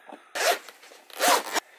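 A zipper on the carrying case of an SPC Maker 100 SP micro drone rasps open in two quick, close pulls, each a sharp ripping burst, with no talking.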